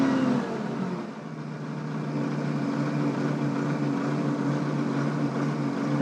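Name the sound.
Michigan L30 loader with rebuilt Perkins engine at half throttle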